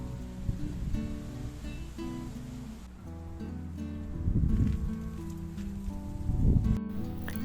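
Wind rustles through leaves in a garden on a sunny morning, a steady soft whoosh that swells in a few louder gusts.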